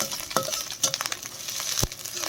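Ginger paste fries in a pan with a steady close sizzle, and a few sharp scrapes and knocks of a spatula stir it. No one speaks.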